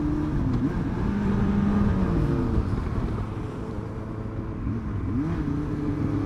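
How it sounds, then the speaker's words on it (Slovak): A motorcycle engine runs steadily at close range, with a low continuous drone and shifting harmonic tones as it revs slightly, alone without talk. "Tu je erárna motorka."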